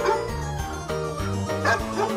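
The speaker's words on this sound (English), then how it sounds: "Dog." A dog barks in a quick run of bright, repeated yaps lasting about two seconds, close and loud, set against a musical children's song backing.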